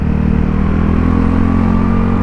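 Yamaha Fino scooter engine running steadily nearby, a loud, constant low hum and drone with no pauses, on a rainy commute.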